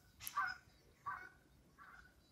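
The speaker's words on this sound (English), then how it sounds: "Got some geese going over." Several faint goose honks from geese flying overhead call out in a loose sequence above an allotment garden in April, distant and thin against a quiet background.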